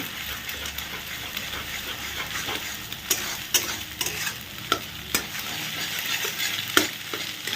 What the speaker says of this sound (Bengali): ফ্লেমটা একটু বাড়িয়ে দিয়ে এটাকে জাস্ট ঝুড়ো মতো স্ক্র্যাম্বল টাইপের করে নেব